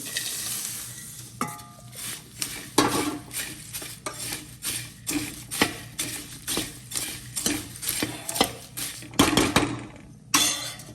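Repeated scraping strokes stir crisp fried chevda snack mix around a pan in a steady rhythm, with light clinks of a utensil against metal.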